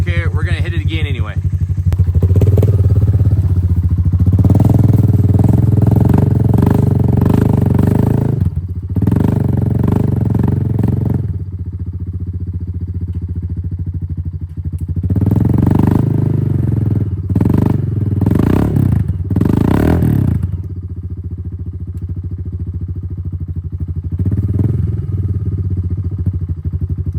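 Honda Fourtrax 300 ATV fitted with a performance CDI box revs hard while churning through thick mud, loud surging bursts with pauses between them, and people can be heard talking over the engine.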